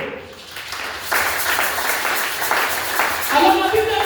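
A church congregation applauds during a French-language sermon, a steady wash of clapping that swells after the first second and keeps going, with a voice speaking over part of it.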